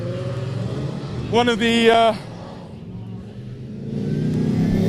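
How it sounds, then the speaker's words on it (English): Race cars at the Killarney 9 Hour endurance race pass close by, one car's engine rising into a loud, sharp howl before fading into a steady track rumble, with a voice talking over it. "We need to stand flat against this barrier as the cars come down here"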